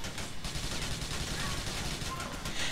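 Rapid gunfire from a multiplayer session of GTA IV, a dense, continuous rattle of shots filling the whole stretch at steady loudness.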